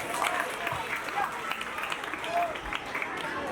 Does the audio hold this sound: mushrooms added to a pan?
no